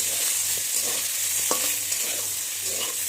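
Brinjal fries in a pan with salt and turmeric, giving a steady close sizzle broken by a few light stirring scrapes and clicks, with no talking.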